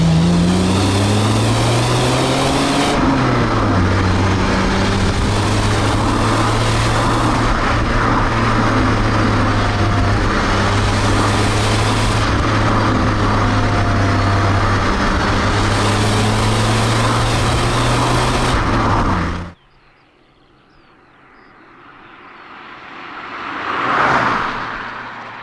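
A 1991 BMW E30 325i convertible with a five-speed gearbox drives along, its engine droning loudly and steadily with shifting revs, then cuts to near quiet as a vehicle passes at the end.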